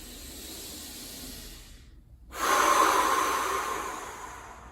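A deep breath drawn during a morning stretching routine, heard as a soft hiss that swells into a louder, airy exhale in the second half, close to the microphone, after a brief silent gap.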